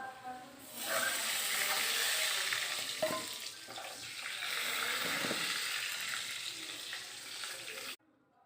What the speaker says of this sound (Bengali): বন্ধুরা আলুটাকে ভালো করে আমি ভেজে নিয়েছি